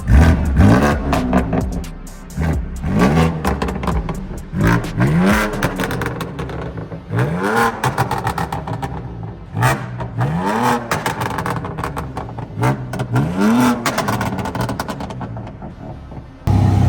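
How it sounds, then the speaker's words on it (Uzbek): A BMW M3 Competition engine roars through repeated rising revs and gear shifts as it accelerates, loud and close, with brief dips between each surge, at a motor festival. "mana bu BMW M3 Competition'ni hozir vaqtini eshitamiz"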